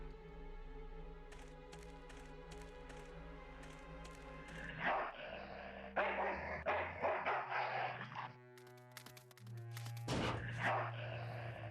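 A dog barks repeatedly in the Full Throttle video game, sharp loud bursts over a low in-game engine hum, with gunfire-like cracks and scuffling game effects in the later part.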